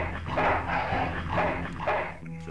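A dog in the game Full Throttle Remastered barks three times in a steady rhythm, muffled and close, over a low background hum.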